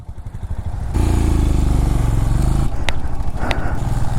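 Motorbike engine rumbling steadily as it descends toward the Puga Valley hot spring in Ladakh, a low throbbing drone that swells louder partway through, with a couple of brief clicks and clatters on top.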